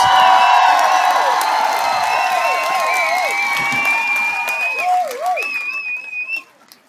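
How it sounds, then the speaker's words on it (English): An audience at a talk on ESG in sports applauds and cheers to welcome a guest, with loud whoops and whistles over the clapping, which tapers off and drops away near the end. "Let's give him a round of applause."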